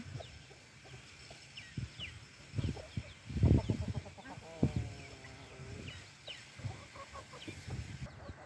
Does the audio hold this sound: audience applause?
no